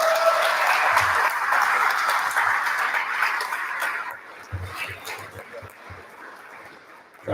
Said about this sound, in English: So please join me in a big round of applause for Timothy O'Donnell.